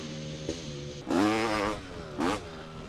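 A two-stroke dirt bike engine idles quietly, then gives two sharp, rising braps during a wheelie, the first longer and the second short, each climbing in pitch before dropping back to idle.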